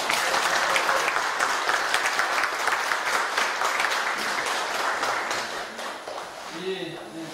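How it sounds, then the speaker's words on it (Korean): Audience applause at a Korean Buddhist ceremony honoring a senior monk, a loud burst of many hands clapping close by that gradually thins and fades toward the end as a voice begins speaking. "불사 큰 스님께 박수 한번 부탁드립니다."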